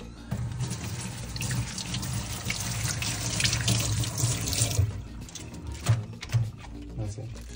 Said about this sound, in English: Now we're gonna wash some spring onions.